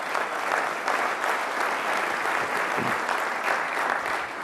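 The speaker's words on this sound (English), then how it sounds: "Yeah, that's worth applause." An audience at the 2015 Mackinac Policy Conference gives sustained, even applause that stays full and loud from start to finish.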